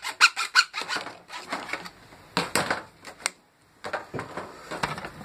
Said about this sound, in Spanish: Vamos a cortarlo. Estamos usando una sierrita fina.